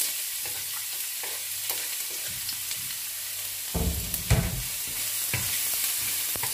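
Garlic sautéing in olive oil, a continuous sizzle with intermittent scrapes and clacks of a utensil stirring the pan, briefly louder midway, heard up close without talk.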